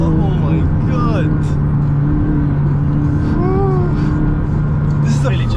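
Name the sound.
£250,000 supercar accelerating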